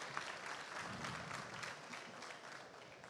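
Conference audience at a start-up pitch competition final applauds, a faint, steady wash of many hands clapping throughout.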